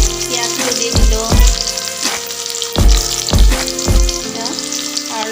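Onion fries in hot oil in a home kitchen for an Assamese fish curry, giving a loud, close, continuous sizzle with repeated scraping stirs every second or so.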